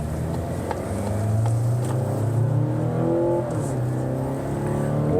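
A Mazda CX-90 SUV with an inline-six engine accelerates from inside the cabin, a smooth, steady rising engine drone with no talking.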